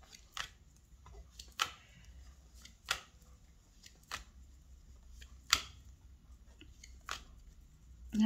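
Tarot cards being handled and laid aside on a table, sharp, close snaps and flicks every second or so, separated by quiet pauses.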